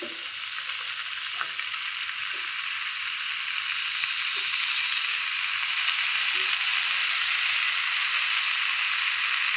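Sliced ridge gourd for a poppy-seed vegetable curry frying in hot oil, a loud continuous hiss that swells slightly over time, with a few soft knocks of a spatula.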